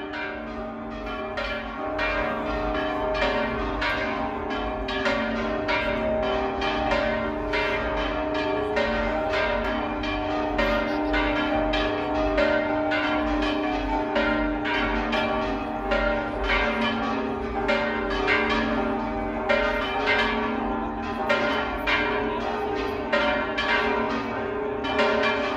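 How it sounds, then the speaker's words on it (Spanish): Church bells peal steadily in Jalostotitlán, Jalisco, with repeated overlapping strikes ringing out loud and sustained for the full stretch and no voices over them. "qué bonito se oyen las campanas aquí en Jalotzotitlán, Jalisco"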